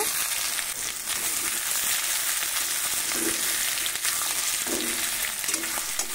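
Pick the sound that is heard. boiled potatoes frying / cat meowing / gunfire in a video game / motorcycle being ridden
boiled potatoes frying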